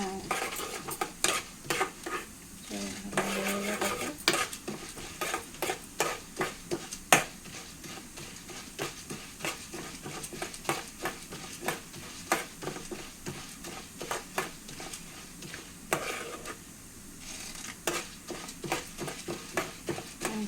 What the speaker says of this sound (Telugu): కందిపప్పు ఇలాగ వేగుతుంది కదా, చక్కగా ఎర్ర చేయగాక కొంచెం మరీ ఎర్రగా